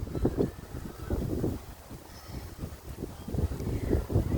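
Gusty wind buffets the microphone in uneven low rumbles, rising and falling over a few seconds with no one speaking.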